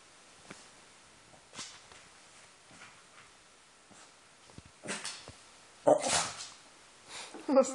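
A West Highland White Terrier gives a few small sneezes and snorts amid quiet shuffling, followed by a louder burst near the end.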